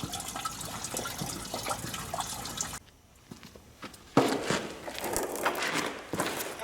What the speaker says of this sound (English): I think all the coolant's about stopped dripping out of it for the most part.